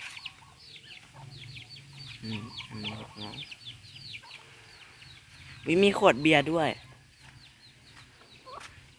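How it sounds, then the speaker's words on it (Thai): Farm chickens clucking at a rural home beside bamboo, scattered soft clucks through the background with a louder burst of calls midway, while someone speaks over them. "อันนี้ก็จะเป็นไก่นะคะ"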